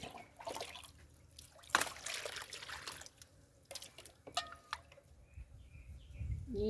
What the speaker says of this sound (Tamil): தண்ணி ஊற்றணும் அதில்.